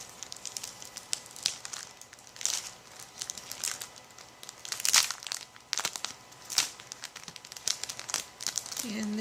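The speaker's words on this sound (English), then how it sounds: "And the last envelope here. Let's see if we can get this open without tearing anything." A paper envelope from a craft kit is carefully opened close by, giving soft crinkles, rustles and small crackling tears in irregular bursts, fairly quiet with no talking.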